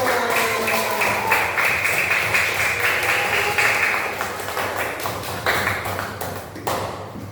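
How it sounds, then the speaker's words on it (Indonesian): Applause for a class in an Indonesian teacher-training session: many students clap in a thick, continuous rattle close by, holding strong before easing slightly toward the end, with no talking over it. "Oke, sekali lagi kasih tepuk tangan untuk kelas."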